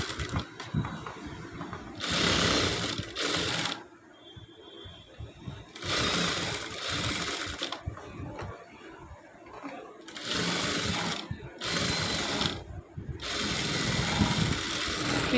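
A sewing machine stitches the neck of a blouse in several loud, rapid bursts of close mechanical clatter, separated by short pauses.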